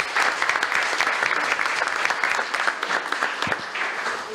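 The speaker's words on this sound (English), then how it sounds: "give her a round of applause" Audience applause at a city commission meeting, steady dense clapping from a crowd filling the room for several seconds without pause.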